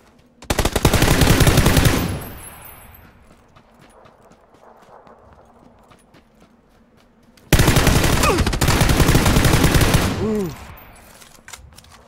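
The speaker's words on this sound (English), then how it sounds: "A lot of shots from the southeast." Gunfire in PUBG: two long, loud bursts of rapid automatic shots, the second after a quiet gap, with a faint horse-like whinny and scattered clicks in between.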